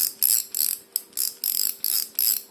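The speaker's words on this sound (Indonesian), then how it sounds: "Clicker yang lama ini lebih berisik." An old clicker snaps out about eight sharp, noisy clicks in a quick, even rhythm, close up and alone.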